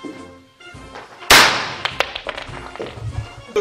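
A single sharp, loud gunshot from a Hungarian FÉG P9R gas pistol cracks out, followed by a rattle of smaller clicks and knocks, close by with no talking.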